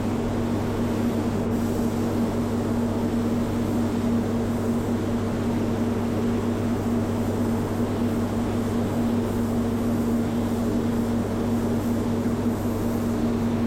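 A spray gun applies base coat to a Porsche 718 Boxster S front bumper, a loud, steady hiss of air and paint mist with a constant low compressor-like drone throughout.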